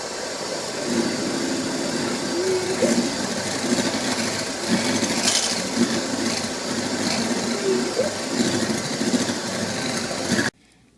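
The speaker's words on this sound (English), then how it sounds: "You got to be beating your eggs at medium-high speed while you're doing this." An electric mixer beats eggs and sugar at medium-high speed, a steady close motor whine that runs for about ten seconds and then cuts off.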